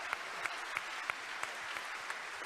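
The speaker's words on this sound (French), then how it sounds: "On peut l'applaudir bien sûr, Mimoun Ziani." Applause from an audience at a French political party's tenth-anniversary event, heard as a steady wash of clapping with a few sharper, distinct claps standing out at a regular rhythm.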